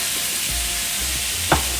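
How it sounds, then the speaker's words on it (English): Chopped Hatch and pasilla green chilies fry in pork fat in a pan, giving a dense, steady close sizzle with a brief stir near the end and no voices. "we're just gonna caramelize these, brown these up a little bit"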